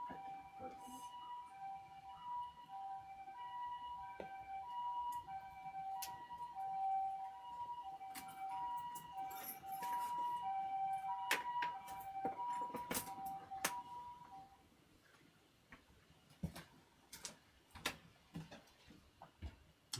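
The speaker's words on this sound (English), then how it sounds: "Was that an ambulance that stopped right outside our place?" A siren wails in a repeating two-tone pattern at moderate distance, joined by scattered clicks and knocks, then fades out leaving sharp tapping sounds.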